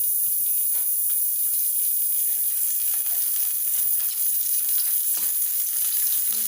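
Coriander and cumin sizzle lightly in hot oil, giving a steady close hiss of frying with faint crackles and no talking.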